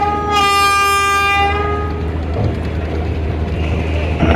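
Bangladeshi passenger launch Sundarban 12, a river ferry on the Jhalakathi–Dhaka route, speeding up: a loud horn blast with stacked harmonic tones rings out at first, then fades into a steady low engine rumble and water wash.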